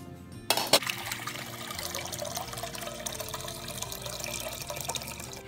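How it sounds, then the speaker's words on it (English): Tap water runs steadily into a pot being filled for boiling, a continuous splashing stream after a brief clatter at the start. "now what I'm gonna do is to boil up some water in this pot."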